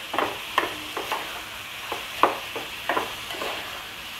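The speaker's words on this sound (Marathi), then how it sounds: "आता हे तेलामध्ये आहे ना सर्व साहित्य आपल्याला व्यवस्थित असं मिक्स करून घ्यायचं आहे आधी" Squid masala ingredients, with garlic, are being stirred in hot oil, giving a steady soft sizzle broken by a dozen or so scraping strokes of a spoon at an uneven rhythm, close and moderately quiet.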